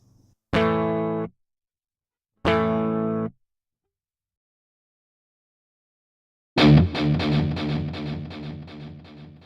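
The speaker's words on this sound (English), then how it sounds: "This is the pure guitar signal without any processing, taken directly from the input." A dry, unprocessed electric guitar, recorded direct from the input, plays two separate sustained notes with silence between them, then a ringing chord is struck that slowly decays. The sound is clean and close, with no talking.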